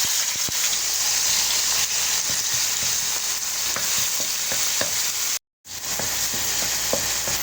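Sliced bitter gourd (ampalaya) sautéing in a hot pan, a steady bright sizzle broken by scattered clicks and scrapes of stirring, with a brief gap of silence near the end before the frying resumes.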